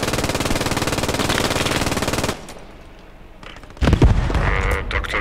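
Heavy automatic gunfire in the World War II shooter Post Scriptum hammers in a fast, loud, continuous burst for about two seconds. It stops abruptly, then another loud burst of shots and impacts erupts near the end.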